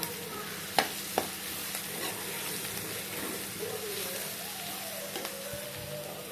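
Onions that have softened in a pan with a spoonful of chili powder added, frying with a steady soft sizzle while a spoon scrapes and stirs, with a couple of sharp clicks near the start; no one speaks.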